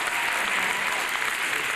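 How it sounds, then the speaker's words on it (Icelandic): An audience at the Tónkvíslin 2009 music contest applauds in a steady, dense wash of clapping that holds level and loud across the whole short span, with no voices rising above it. "við viljum bara klappa fyrir þeim"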